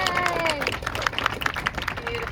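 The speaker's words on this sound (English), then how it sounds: "Yes, you can clap if you like." A crowd claps along at the opening of a cruise terminal after a welcoming song, moderate scattered clapping over background crowd chatter, with some tonal sounds and voices layered in.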